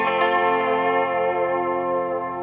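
A delay pedal set fully wet with the mix turned all the way up produces a sustained, dense wash of echoing guitar tone that rings steadily and fades slightly. It is heard alone, without talk.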